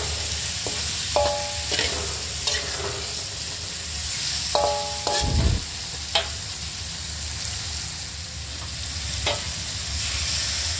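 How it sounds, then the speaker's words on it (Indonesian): Spices and patin fish sautéing in a pan for pindang: continuous loud sizzling and frying with repeated scraping and clanking of a utensil stirring against the pan, one heavier bump midway. "Lalu kita tumis semuanya ya."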